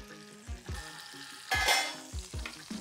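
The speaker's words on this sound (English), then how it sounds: "we'll put the shallot in there" Shallots fry in a pot with a steady, close sizzle, punctuated by several soft thumps and scrapes of stirring; a louder burst of crackling swells midway before settling back.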